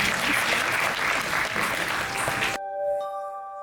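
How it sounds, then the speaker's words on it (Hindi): Audience at a kathak dance performance of Ganesh aarti and a traditional tarana claps loudly and densely for about two and a half seconds, then the applause cuts off abruptly into sustained musical tones. "तालियां।"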